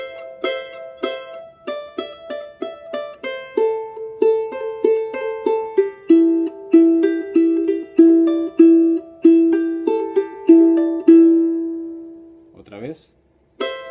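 A charango plays four joined phrases of Virgenes del Sol: a steady stream of bright plucked notes, close and clear, ringing over one another before a short burst of noise at the end.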